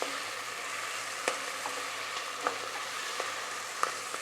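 Tomato rice fries in a pan with a steady, moderate sizzle while a utensil stirs it, giving occasional light scrapes and taps against the pan; no voices.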